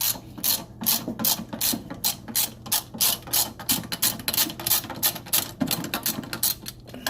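A socket ratchet loosening bolts on a Hobart LXe dishwasher, close and crisp, with fast bursts of clicking in an uneven rhythm and no talking.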